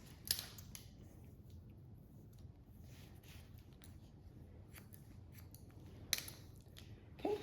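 Scissors trimming the sides of a short pixie haircut, giving a few faint, sparse snips over a low steady background hum, close and quiet.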